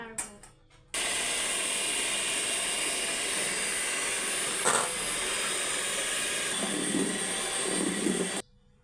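An electric blender whirs steadily while blending cake batter, a loud, continuous motor drone that starts abruptly and cuts off near the end, with faint voices underneath.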